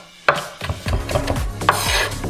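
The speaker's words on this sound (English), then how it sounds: "we got our green onion, we got our parsley. Let's chop this up." Fresh green onion and parsley chopped with a knife on a cutting board: a quick series of close, crisp thuds in an uneven rhythm, with no talking.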